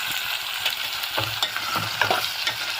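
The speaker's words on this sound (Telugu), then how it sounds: "ఒకసారి మొత్తం మిక్స్ చేద్దాం. కొంచెం ఫ్రై అవ్వాలి." Soya chunks with potato and carrot stirred and fried in a pan, a steady sizzle running throughout beneath close spoon scrapes that come in irregular bursts.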